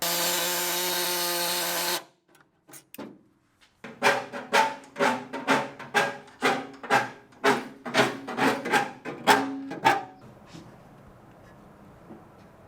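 A saw blade trims metal around the clutch lever of a BMW 700. After a brief steady tone and short pause comes a run of about a dozen close, rhythmic rasping cutting strokes that then stop, leaving quiet.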